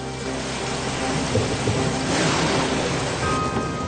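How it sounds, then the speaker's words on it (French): Heavy rain pours down during a thunderstorm in a steady, dense hiss, with a low rumble swelling midway, loud and continuous with no voices. "La pluie a redoublé."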